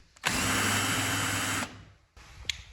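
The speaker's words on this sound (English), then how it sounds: "I'm just using a countersink drill bit to countersink the screw heads" A power drill fitted with a countersink bit bores screw-head recesses in skirting board, a loud steady whir for over a second that stops abruptly, then a brief quieter rattle of handling.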